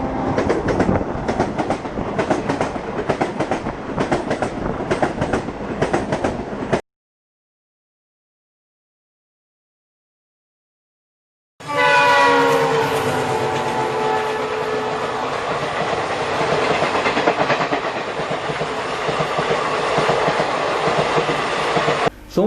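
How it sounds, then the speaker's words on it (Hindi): The Tata-Danapur superfast train at Chandil station rolls with loud, rhythmic clickety-clack of wagons over rails, then after a silent break returns with rumbling carriages and a whistle or horn-like tone, continuous and close. "चांडिल स्टेशन में टाटा दानापुर सुपरफास्ट ट्रेन का ठहराव हुआ"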